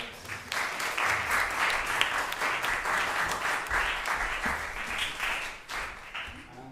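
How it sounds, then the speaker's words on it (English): An audience at an academic research forum applauds in a steady, full wash of clapping lasting several seconds before easing off. "join me in another round of applause"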